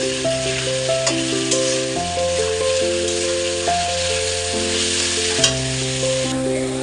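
Potatoes and onions fry in a pan, a steady close sizzle with stirring scrapes, over a sustained tonal background hum.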